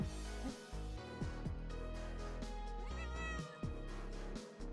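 A calico cat meowing in the Night/Shade visual novel game, several drawn-out close meows in a row, loud and clear with no talking.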